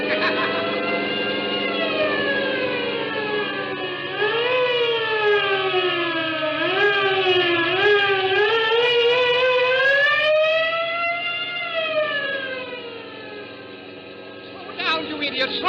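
Police car sirens wail through a 1941 NBC radio drama chase, several loud overlapping tones rising and falling steadily for the whole stretch before fading toward the end.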